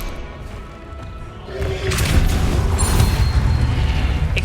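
The Depulso spell from Hogwarts Legacy goes off as a heavy boom with a crashing burst, rising sharply after a quieter start and then holding a loud, rumbling wash of impact noise. A voice is heard near the beginning.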